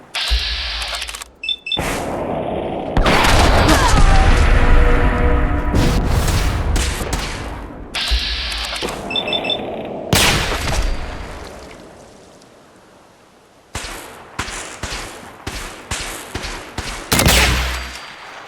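Heavy gunfire in the Fallout 4 video game, with loud sustained automatic bursts and booming shots, then a quieter gap before a run of sharp single shots closing in a final burst.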